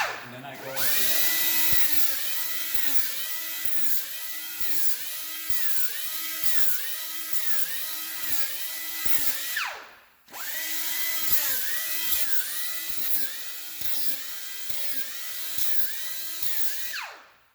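An Edgemaster M100 edge tool fitted with a worn 80-grit disc rounds an edge to an 8 mm radius. It gives a loud, high grinding whine that pulses rhythmically and dips briefly once midway before continuing.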